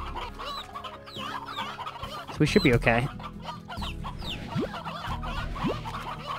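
Chickens cluck in the video game Slime Rancher, a busy scatter of hen clucks with a louder burst in the middle, faint background music and a brief spoken line.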